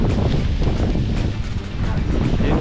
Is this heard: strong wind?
yes